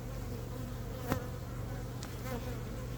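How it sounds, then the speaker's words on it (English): A steady, dense hum of many honeybees buzzing close by at an open hive, with a few brief louder passes over the constant drone. "there's a lot of bees, so you never know"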